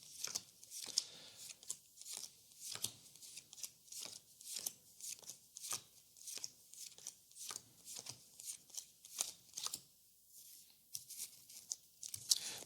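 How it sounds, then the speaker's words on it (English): Earthborne Rangers game cards being shuffled by hand, a steady run of crisp riffling bursts and soft slaps at an even rhythm, close and fairly quiet with no talking. "I'm going to shuffle them together and then manually shuffle them"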